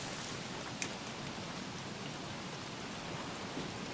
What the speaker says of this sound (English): because it's raining on us a lot